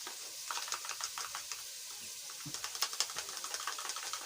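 Tomato paste with chopped tomatoes being stirred as it cooks in an African village kitchen, a continuous sizzle and bubbling with repeated soft scraping strokes, fairly close.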